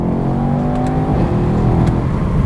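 A Mercedes-AMG E63 S engine pulls hard under acceleration, a loud, close, continuous growl with rising harmonic tones and a brief shift-like dip midway, with no voices over it.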